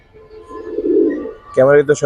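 Colourful pigeons from a large collection give a soft, low, rolling coo up close, followed by someone talking right afterward.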